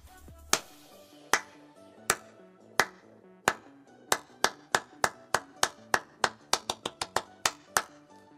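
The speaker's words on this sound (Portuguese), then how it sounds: "Som de palmas." Hand claps ring out crisp and close, about twenty in all, spaced slowly at first and then quickening into a faster, steadier beat, with nothing else heard between them.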